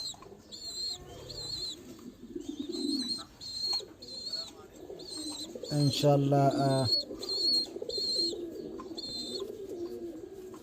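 Pigeons for sale, including Giribaz and Kagzi breeds with young, coo in repeated low throaty phrases close by, alongside high chirping and someone talking over parts of it.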